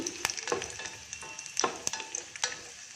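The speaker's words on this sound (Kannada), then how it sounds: "ತುಪ್ಪ ಕಾದ್ಮೇಲೆ ಇದನ್ನು ತುಪ್ಪದಲ್ಲಿ ಸ್ವಲ್ಪ ದ್ರಾಕ್ಷಿ ಎಲ್ಲ ದಪ್ಪ ಆಗೋ ತನಕ ಬಾಡಿಸ್ಕೊಳ್ತೀನಿ." Almonds, cashews and raisins frying in hot ghee: a steady, close sizzle punctuated by sharp clicks and taps of a spoon stirring the pan, several distinct strikes over three seconds, with no talk.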